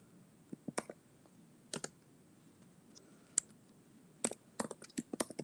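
Someone types on a computer keyboard while entering new text for a website page, with irregular bursts of crisp key clicks, some quick runs and short pauses, close and moderately loud with no talking.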